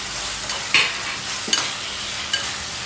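Chopped tomatoes added to onions frying in a pan, giving a steady loud sizzle with a few sharp clinks and scrapes of a stirring spoon, close up and without talking.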